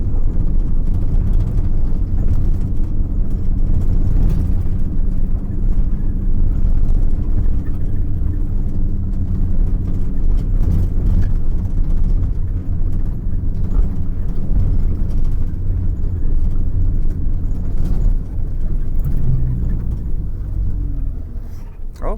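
A car's engine runs steadily while the car is being driven on a road during a driving lesson, giving a loud, continuous low rumble throughout with faint voices now and then.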